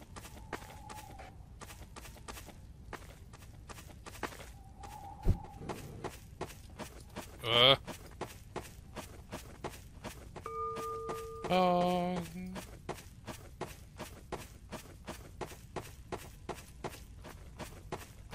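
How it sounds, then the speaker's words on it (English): Footsteps in the video game Garry's Mod (Murder mode): a long, steady, rhythmic run of close footfalls that continues throughout, with a couple of brief tonal game sounds and a louder thump breaking in. "I hear footsteps behind me."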